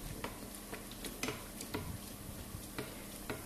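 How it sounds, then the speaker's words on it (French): Dough for fricassée puffs up while frying in hot oil, giving a steady soft sizzle with scattered faint pops and light ticks throughout, fairly quiet and without any voices. "Donc vous faites cuire, regardez, ça cuit bien, ça a bien gonflé."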